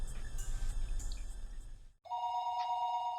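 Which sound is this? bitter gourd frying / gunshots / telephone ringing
telephone ringing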